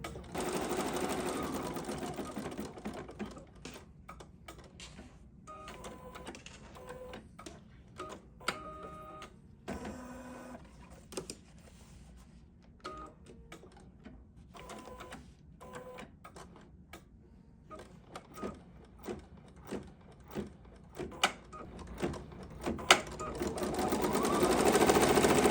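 A domestic embroidery machine stitches magenta sampler block pieces in rapid, even mechanical chatter that runs continuously for a long stretch, with a few short pauses and carriage clunks, close and clear with no talking.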